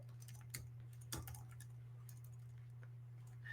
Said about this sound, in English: Okay, so I'm just typing in my personal information.